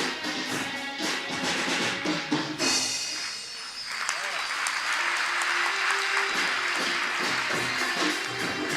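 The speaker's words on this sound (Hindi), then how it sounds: "बच्चे भी तेज तालियां।" Children at a government school in Delhi clap loudly, dense sustained applause that swells after a brief lull and carries on for several seconds.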